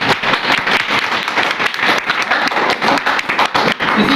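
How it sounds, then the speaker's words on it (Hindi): Clapping from parents and children at a government school parent-teacher meeting, a close, lively burst of individual hand claps with uneven rhythm, fairly loud and continuous without talk. "तालियां बजा दो"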